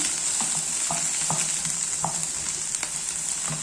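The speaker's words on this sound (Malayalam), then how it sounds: "ബട്ടറിലാണ് ഇത് ഉള്ളി തന്നെ വഴറ്റിയെടുക്കുന്നത് അപ്പോൾ നമുക്ക് ഉള്ളി വഴറ്റാമേ" Onions sauté in butter in a pan for paneer butter masala, giving a constant bright sizzle with scattered soft clicks of a spoon stirring.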